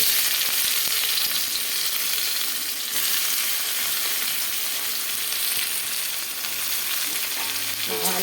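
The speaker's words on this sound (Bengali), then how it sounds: "দিয়ে দেবো পেঁয়াজ কুচি" Chopped onion hits hot oil tempered with whole spices, producing a loud, dense, continuous sizzle close up, with brief stirring scrapes and a slight dip in intensity partway through.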